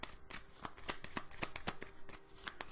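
Oracle cards shuffled by hand up close, a steady run of soft, rapid riffles and slides, fairly quiet and without any talking.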